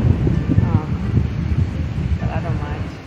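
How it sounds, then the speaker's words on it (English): Strong wind at a Maine beach buffets the microphone with a loud, gusty low rumble that never lets up, while people talk over it. "It's extraordinarily windy today,"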